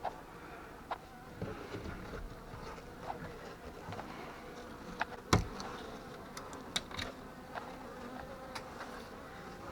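Buckfast honey bees buzz around an opened hive frame in a spring apiary, a low continuous droning swarm close by, with scattered sharp ticks and one louder knock of frame handling partway through.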